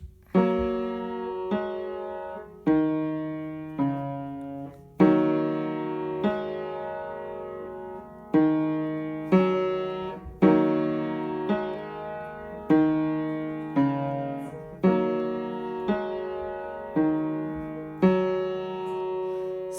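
A slow piano rendition of a Minecraft song, melody with chords, notes struck in a steady rhythm and left to ring and fade between phrases, close and clear.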